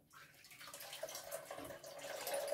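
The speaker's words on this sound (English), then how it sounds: "Now it's time to rinse the garment and get rid of the soap." Water running steadily over an alpaca wool garment being rinsed in a shower, a continuous splashing hiss that builds slightly louder toward the end, heard alone.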